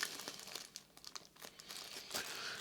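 A plastic bag crinkles as a small screw from a disassembled NVIDIA RTX 3080 graphics card is packed away, giving faint, close, irregular rustles and crackles in short bursts.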